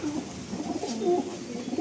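Domestic fantail pigeons coo continuously in a home pigeon loft. The low, throaty calls are steady and fairly close, with no talking over them.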